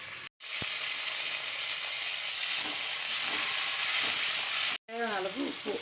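Onions frying in hot oil for dried fish rice, a dense steady sizzle close by that cuts out briefly twice, with a short voice near the end.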